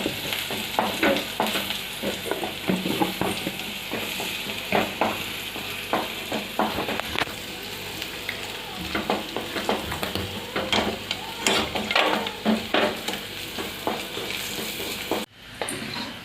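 A spoon stirs mutton leg soup in a pot, giving repeated close scraping and clinking strokes over a soft simmering sizzle, irregular but continuous, ending in a brief pause.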